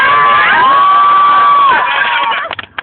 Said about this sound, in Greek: Για να πάμε ένα χειροκρότημα